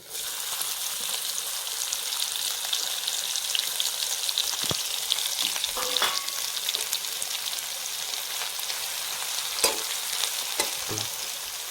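Garlic and cumin seeds frying in hot oil for an onion-peanut chutney give a steady, dense sizzle throughout, with a few brief stirring knocks and pops near the middle and end.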